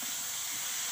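Water poured into a pan of hot spices with cumin and dried chilli, giving a brief loud steady hiss of steam throughout.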